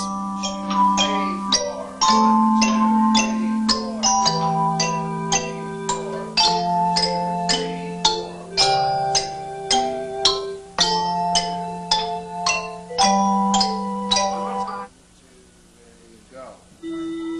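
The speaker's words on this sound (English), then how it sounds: "The same notes alternated between the metallophone and the hand chimes create an echo effect, adding extra dimension to the piece." Metallophone and hand chimes play Canon in D, with ringing struck tones trading the same notes back and forth over a steady low sustained bass line, in an ensemble performance that ends on a quieter, softly decaying passage.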